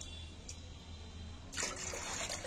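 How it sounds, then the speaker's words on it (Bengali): Water trickles into a pot of rice for chicken dum biryani, a faint, thin stream at first that swells into a fuller, louder pour during the second half. "জল দিয়ে দিচ্ছি"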